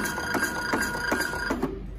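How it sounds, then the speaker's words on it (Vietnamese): An Intermec PC43d thermal barcode label printer runs a print job, giving a close, loud mechanical whir with rhythmic clicks and pulses before stopping. "Đây là tốc độ in nhân của máy nhá."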